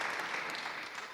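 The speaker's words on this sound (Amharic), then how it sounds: "ለጌታ ከፍ ያለ እልልታ ጭብጨባ ስጡ" Congregation at a church deliverance service applauding and ululating in praise, a dense, steady wash of clapping with bright cheering that holds loud throughout before easing slightly at the end.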